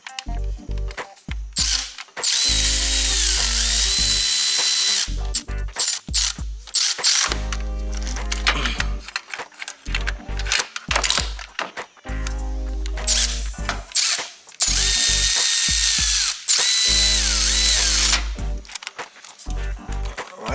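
Ratchet wrench tightening a bolt during a clutch kit install on a 2008 Honda Civic Si, repeated bursts of quick clicking strokes with short pauses between, close and fairly loud.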